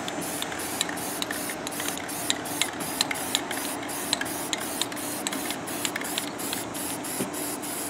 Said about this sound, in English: I'm gonna spray it kind of in the middle to give like a fade effect.